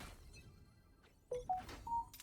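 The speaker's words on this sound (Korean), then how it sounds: "핸드폰 알림 소리에 놀랐답니다." A mobile phone notification chimes out as a quick run of four short, clear electronic tones stepping upward, fairly loud and close after a quiet, murmuring stretch.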